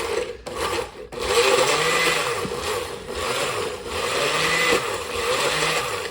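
A food processor pulses a Chick-fil-A chicken sandwich into butter, a loud, steady grinding whir with brief dips between bursts and no talking.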